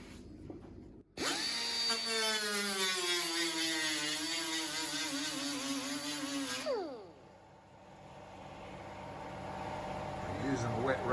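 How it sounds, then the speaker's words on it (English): A power grinder whines steadily, grinding down welds on a metal panel of a 1934 Chevy Master Coupe roof, its pitch wavering under load for several seconds before spinning down, then the shop hum continues. "So we're knocking down a few of these welds."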